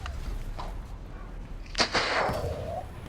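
A single loud cannon shot from a tank or gun in the video game War Thunder bursts out midway, leaving a rumbling tail over a low engine-like drone.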